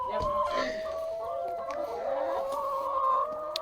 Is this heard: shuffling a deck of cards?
no